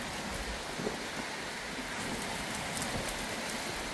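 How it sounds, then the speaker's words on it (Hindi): Heavy rain pours steadily in a forest near Manikoot mountain in a dense, even hiss, with occasional louder splashes and drips close by and no voices. "बारिश जबरदस्त हो रही है"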